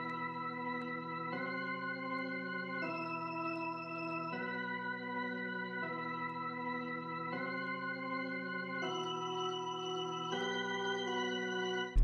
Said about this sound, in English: I used this keys preset from the Cactus one-shot kit